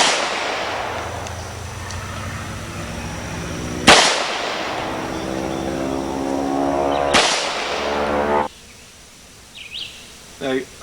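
A .40 Smith & Wesson Taurus pistol fitted with a compensator fires two loud, sharp reports about three seconds apart, each with a long ringing decay, over steady background noise.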